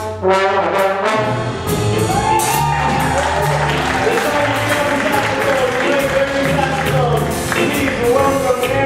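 A concert crowd applauds and cheers the trombone section of a big band, with loud sustained clapping, whoops and shouts mixed with band notes throughout.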